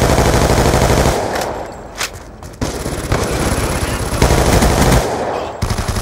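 Rapid automatic gunfire from a Vector K10 submachine gun in Black Ops 2, loud and dense, firing in sustained bursts with short pauses between them.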